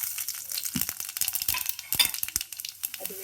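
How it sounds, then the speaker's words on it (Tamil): Whole spices, cinnamon, cloves and fennel seeds, dropped into hot oil in a pot, giving a run of crackling sizzles and small clinks at close range. "பட்டை, கிராம்பு, சோம்பு எடுத்து வச்சுருக்கேன். அதை சேர்க்க போகிறேன்."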